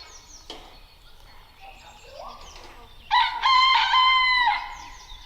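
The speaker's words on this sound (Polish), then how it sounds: "Kogut ma rację. Kogut to potwierdził." A rooster crows loudly once, a clear drawn-out call, after faint bird chirps in a quiet outdoor garden setting by heather beds.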